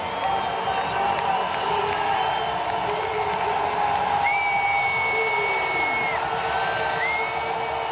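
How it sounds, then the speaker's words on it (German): Austrian ski fans at the finish area applaud and cheer continuously, a dense crowd roar with whoops and whistles rising over the steady clapping. "sie verabschieden ihn mit einem herzlichen Applaus. Das werden Sie gleich hören."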